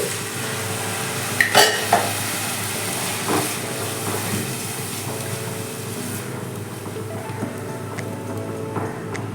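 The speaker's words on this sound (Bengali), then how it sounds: "জিরে গুঁড়ো আর একটু মশলা ধোয়া জলটা দিয়ে দিচ্ছি" Cumin powder and spice-rinse water hitting a hot pan in an Indian turnip curry, a loud steady sizzle and hiss that holds evenly throughout, with a few brief clinks of a utensil early on and no voice.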